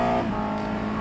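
Engine of a USF2000 open-wheel race car in a racing sim at the Biķernieki track, a loud steady droning tone that rises briefly as the throttle is blipped during a downshift.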